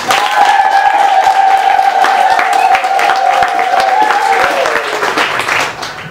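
A church congregation at a Pentecost Mass applauds loudly with rapid, dense clapping while high, sustained ululation trills ride above it, fading near the end.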